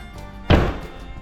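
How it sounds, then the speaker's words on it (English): A door on a 1969 Pontiac Catalina wagon is pushed shut but fails to latch, giving one loud, close, hollow thunk that dies away quickly against quiet background noise. "this door doesn't close anymore"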